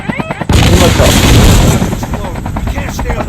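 Gunfire in the mobile shooter Call of Duty Mobile erupts after half a second of quiet, a loud dense burst of repeated shots and impacts continuing to the end, with a rapid rattling rhythm like a battle close by.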